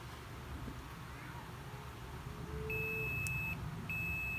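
Two steady multimeter continuity-test beeps, each a thin high tone lasting under a second, over low background hum and faint speech, testing a shorted amplified speaker board.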